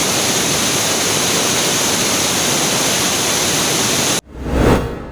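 The Suruli waterfall in flood pours with a loud, steady rushing roar of heavy water that cuts off abruptly near the end.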